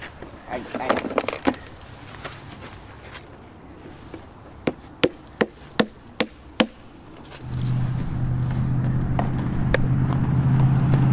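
A series of six sharp, evenly spaced mallet taps on a maple spile rings out after scattered knocks, then a steady low hum rises and continues to the end.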